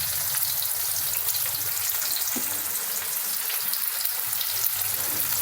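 Bombil fish frying in oil with curry leaves, a dense, steady hiss of sizzling that stays loud and close from start to finish, with faint stirring and no talk.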